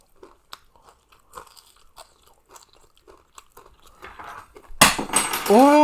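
Crispy fried meatballs being bitten and chewed, a run of small sharp crunches and clicks close to the mic, followed by a sudden loud burst of rustling clatter and a brief voiced sound at the end.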